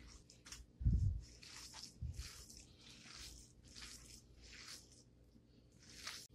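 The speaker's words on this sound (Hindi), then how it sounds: "अब हम इसको मिक्स कर लेंगे" Bare hands mix minced beef seekh kebab mixture with ghee, producing soft, wet squishing and squelching pulses at close range, with a couple of louder thuds early on and no talking.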